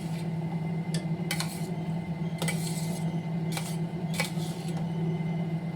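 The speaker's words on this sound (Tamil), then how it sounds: "இப்போ வந்து நல்லா இதை இப்படி கிண்டி விட்டுறோம்." A spoon scrapes and clinks against a pot while tamarind rice is stirred, a few sharp metallic taps and scrapes spaced irregularly over a steady low kitchen hum.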